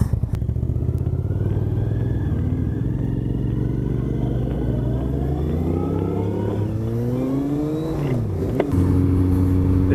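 A Kawasaki Z750R motorcycle engine idles roughly up close, then revs hard in rising bursts near the end, loud and throaty with no talking.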